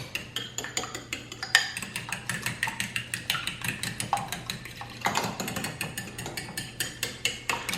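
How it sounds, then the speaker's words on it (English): Quick, rhythmic scraping clinks of a utensil stirring seasonings into eggs in a bowl, close and steady throughout. "you're going to stir the seasonings in really well"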